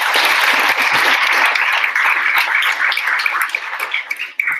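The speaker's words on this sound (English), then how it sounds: "round of applause because you all are amazing" An audience at a data science capstone showcase claps in sustained, dense applause that thins out toward the end.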